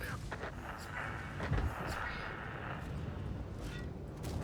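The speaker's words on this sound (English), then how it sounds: "I missed that shot on the T-803" Tank cannon fire in World of Tanks, with booming shots and explosions over constant engine rumble and battle noise, muffled and dense, while someone talks over the gameplay.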